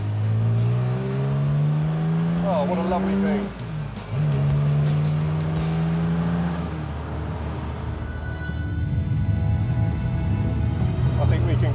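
A restored classic car powers out of a tight roundabout, its engine rising in pitch as it accelerates, dipping briefly, then pulling hard again, with someone talking appreciatively over the engine noise.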